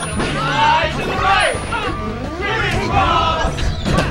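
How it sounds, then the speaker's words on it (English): Loud crowd at a Super Smash Bros. Melee tournament in Pittsburgh, a dense roar of cheering and shouting voices that swells steadily for several seconds with excited yells on top. "The crowd goes crazy."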